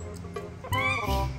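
A kitten meows during a family meal at the table, with a couple of short, high, clear cries rising above the background clatter and voices. The cries are close and moderately loud.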